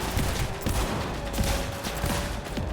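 Rapid gunfire from a Cyberpunk 2077 firefight rings out close and loud, a repeated volley of sharp shots with mechanical clatter under a continuous din.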